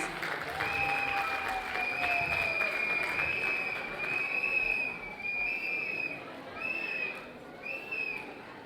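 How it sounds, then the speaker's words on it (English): An auditorium audience at a school annual day celebration claps together, a steady wash of applause at moderate distance, with a few high whistles or tones sounding over it. "let's clap for ourselves, for our lovely audience"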